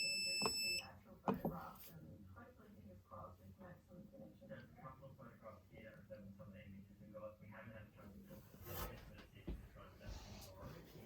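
A Fire-Lite fire alarm system on CLIP protocol sounds during a test, its shrill electronic alarm tones ringing loudly at the start before dropping away under nearby talking.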